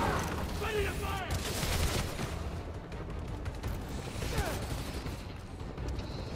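Gunfire in the Marvel's Spider-Man: Miles Morales game, a dense steady barrage of shots and mechanical clatter over continuous game noise, with no clear gaps.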